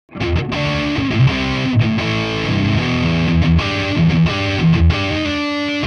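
Loud overdriven electric guitar through a Soldano-style amp preset on a Valeton GP-5/GP-50, front pickup, warmer, rounder tone, strumming sustained distorted chords and short riffs for several seconds, unaccompanied.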